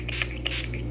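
Urban Decay All Nighter makeup setting spray hisses in quick short bursts, close and crisp, over a steady low hum.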